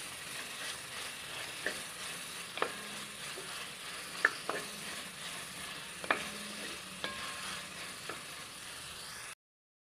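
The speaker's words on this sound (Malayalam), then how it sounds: "നന്നായിട്ടൊന്ന് വഴറ്റണം. സവാള ഒരിക്കലും ബ്രൗൺ കളർ ആവരുത്." Onions sautéing in a pan for chicken stew, a soft steady sizzle with occasional stirring clicks and scrapes, fairly quiet and without speech.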